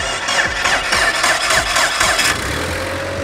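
A Mercedes-AMG E63 S engine, started by remote start with a turbo timer, cranks and catches, revving briefly before settling into a steady idle, loud and close.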